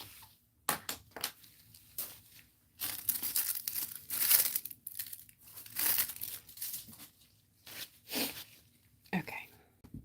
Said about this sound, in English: Get all these foils out of here.